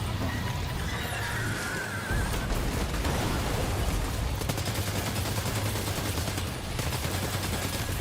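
Assault rifle gunfire in the video game Death Stranding 2, a dense, continuous crackle of rapid shots and bursts over a low rumble, loud and sustained with no talking.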